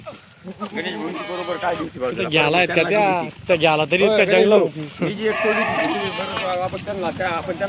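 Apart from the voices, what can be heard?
Kathiawadi goats bleating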